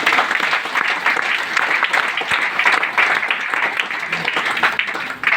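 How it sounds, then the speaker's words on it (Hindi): Loud, sustained audience applause fills the whole stretch at a motivational business seminar, a dense steady roar of many hands clapping with no pauses. "और एक जोरदार ताली"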